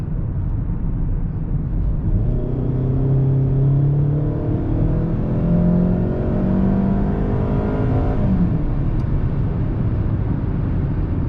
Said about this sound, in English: Let's accelerate.